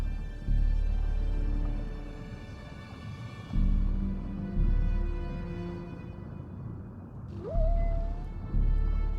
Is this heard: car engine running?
no